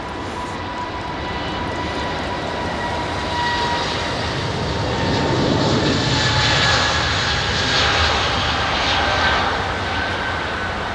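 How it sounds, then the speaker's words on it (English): A propeller aircraft arriving on runway 27R at London Heathrow, its engine drone swelling steadily as it draws nearer and passes overhead. The sound is a broad, continuous rumble with no voices. "It's just I think it's a prop aircraft,"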